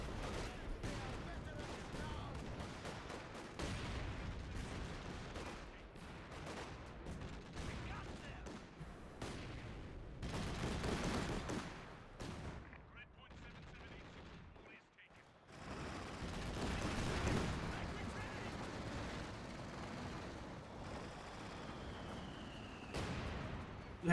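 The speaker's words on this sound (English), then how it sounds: "Mortar cover now coming on in." Mortar and artillery fire in the World War II strategy game Company of Heroes 2, with repeated loud blasts and crackling gunfire across a busy battlefield, mixed with other game noise.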